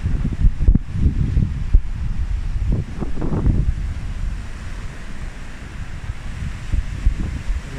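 Sea waves washing onto a beach beside a seaside café, a steady low rumble of surf mixed with wind buffeting the microphone, with a few stronger surges near the start.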